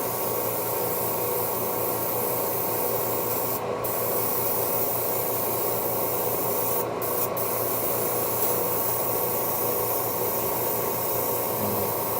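Airbrush spraying paint onto a 3D-printed Umbreon figure: a loud, steady airy hiss running unbroken throughout with a constant hum beneath it and a few brief breaks in the spray.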